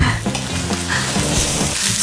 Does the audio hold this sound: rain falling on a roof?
no